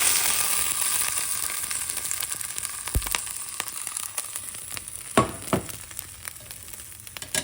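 A chicken quesadilla with cheese melting in a heavy pot over a lowered flame sizzles steadily at close range, with a few sharp scraping knocks from a utensil.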